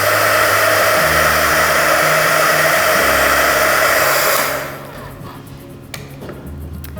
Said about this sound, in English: And then to dry everything and make it go faster, I'm gonna use my heat gun.